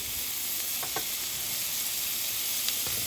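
Butter sizzles in a hot cast iron pan beside a steak, giving a steady close hiss with a few faint pops and ticks and no talking.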